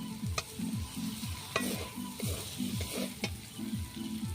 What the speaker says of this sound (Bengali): কিছু উপকরণ দিয়ে ভালোভাবে ভাজা হয়ে গেছে ওর মধ্যে দিয়ে দিচ্ছি টমেটো কুচি